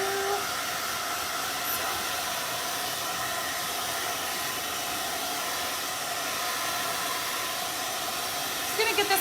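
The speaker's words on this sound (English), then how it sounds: "Just gonna get this blow dried a little bit" A hair dryer blows continuously at close range to dry paint on graduation yard art, a steady loud whooshing hiss for about nine seconds with a brief faint knock near the end.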